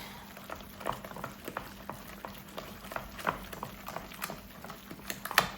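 Cream puff dough is stirred in a pot, a rhythmic thick thudding and scraping of a spoon repeating about twice a second with occasional sharp clicks against the pot.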